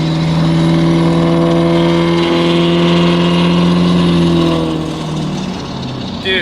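A tow rig truck's engine hums steadily while driving and turning, a sustained mid-pitched drone that eases and softens near the end.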